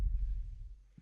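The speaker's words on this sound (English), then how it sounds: "Sounds of a heartbeat." Heartbeat sound effect from a Breaking Bad episode, a faint, low, muffled thump fading over about a second, with another beat starting at the end.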